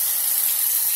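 A bathroom tap runs steadily for a second while someone shaves a head, giving a continuous bright hiss of flowing water with no talk over it.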